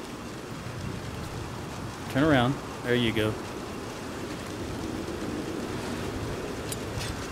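Steady rain hisses and patters across the whole stretch in Red Dead Redemption 2, a continuous soft wash beneath two short bursts of talk near the middle.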